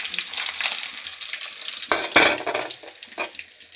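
Mustard seeds, garlic and dried red chilies tempering in hot oil, a bright crackling sizzle with a sharp surge of spluttering and stirring midway, near and loud without speech.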